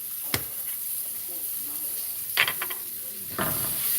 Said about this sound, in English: And you saute it, stir it up, and it starts sauteing